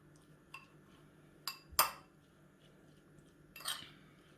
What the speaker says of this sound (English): Give that a last mix.